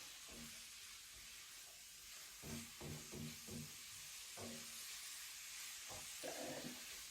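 Carrots being stirred in a frying pan give a soft, steady sizzle. A few scraping stirs come through near the middle and a brief hiss follows near the end. The sound is quiet and close.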